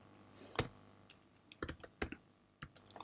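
Quiet keys tapped on a computer keyboard, a short irregular burst of clicks with small pauses between them, close and soft, with no voice.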